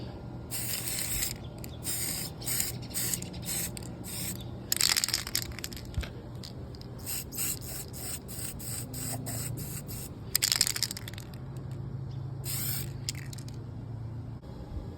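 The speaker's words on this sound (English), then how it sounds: "now that our main pieces are spray painted" Short bursts of an aerosol spray can hissing light, choppy coats of paint onto plastic model parts, a rhythmic series of quick sprays with pauses and a few longer passes, fairly close.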